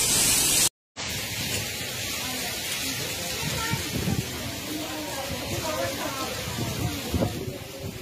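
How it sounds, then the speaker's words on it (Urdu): Torrential rain mixed with hail pours down during a storm in Islamabad, a dense, continuous roaring hiss with scattered sharper impacts, loud and close, briefly cut by a moment of silence near the start. "انتہائی شدید بارش ہے اور بہت شدید جو ہے وہ اولے بھی پڑ رہے ہیں"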